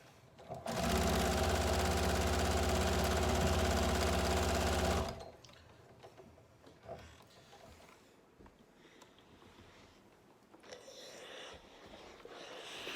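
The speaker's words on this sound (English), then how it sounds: "Then run that through the machine." Sewing machine stitching a quilt patch for a nine-patch block, a loud steady mechanical whir running for about four seconds then stopping, followed by quiet handling noises.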